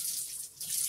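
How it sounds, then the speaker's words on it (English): Cold water runs steadily from a tap into a sink during yeast starter prep for an amber ale home brew. The stream is a constant close hiss that dips briefly midway, with no voices. "now I'm just gonna turn on the cold water"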